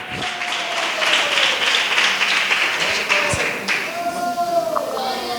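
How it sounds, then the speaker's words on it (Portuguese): A church congregation claps along steadily and cheerfully in praise, the dense applause continuing throughout with voices faintly mixed in. "palmas bem alegres, glorificando a Jesus"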